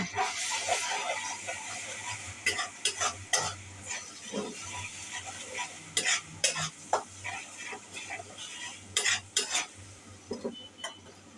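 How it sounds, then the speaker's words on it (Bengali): Garlic paste sizzling in a pan for chicken curry while a spoon scrapes and clinks against the metal in irregular bursts over a steady hiss, close and fairly quiet. "এখন আমি রসুন বাটা দিচ্ছি"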